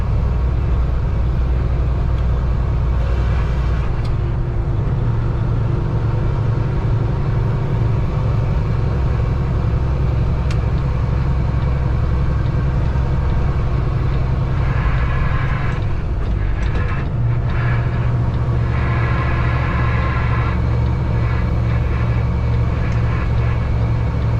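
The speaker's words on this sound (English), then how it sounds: "I'm driving with the window open, no AC." A car climbing the hilly I-40 route through Tennessee on a hot day with the window open and no AC: a loud, unbroken roar of wind and road noise over a low engine drone, close and continuous throughout.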